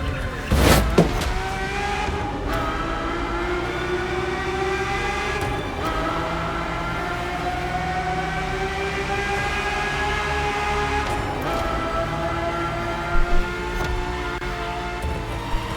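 A Ferrari F50's naturally aspirated V12, heard in the racing game The Crew Motorfest, holds a sustained, rising harmonic drone with gear-change dips and a few sharp transient clicks, loud and continuous without speech.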